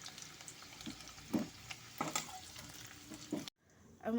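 Potatoes sizzle and crackle in hot oil, with scraping stirring strokes and a few clinks, fairly quiet, before an abrupt cut.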